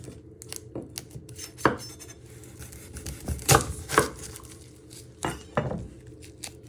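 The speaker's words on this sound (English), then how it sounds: "Then you're going to chop it down the middle." Knife chopping through an onion on a cutting board, a series of irregular sharp chops and clacks, close and fairly quiet with pauses between strokes.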